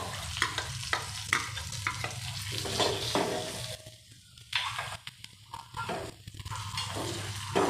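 Grated coconut, chopped garlic and curry leaves sizzle and crackle in hot oil for karela bhaji, with steady frying hiss and occasional stirring scrapes, close and continuous, no voices.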